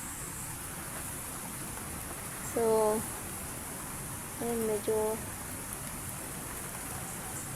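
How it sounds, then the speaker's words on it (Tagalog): Steady rain hissing continuously at moderate strength, the downpour growing heavier, with a person briefly speaking over it twice. "lumakas yung ulan."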